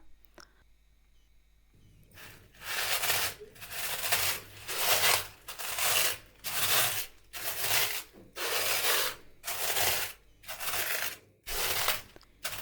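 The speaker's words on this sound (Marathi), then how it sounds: "असा छान तळून झाल्यानंतर मॅशरने थोडा बारीक करून घ्यायचा" Fried urad dal being crushed with a masher in a pan, a series of about nine rhythmic, gritty scraping strokes, close and fairly loud, with no talking.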